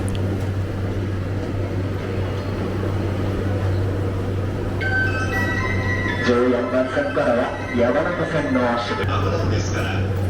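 Yamanote Line train at a crowded Shinjuku Station platform hums steadily under station noise, with a chime and tonal announcement-like sounds rising partway through and a voice speaking.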